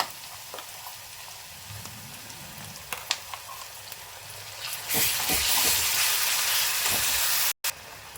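Ground masala goes into a pan for a Kolhapur-style green gram dal with garlic: a few soft clicks and light sizzling, then a loud, sustained frying hiss bursts up midway and holds, broken by one brief gap.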